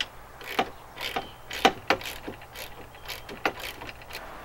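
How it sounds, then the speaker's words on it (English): Ratcheting clicks from mounting clamps being cranked down on a Jaws of Ice auger carrier, a series of sharp mechanical ticks in irregular bursts, close and fairly quiet, with no talking. "All we're going to do is we're going to crank these down and finish the installation."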